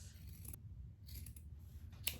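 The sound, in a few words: fabric scissors cutting sweatpants fabric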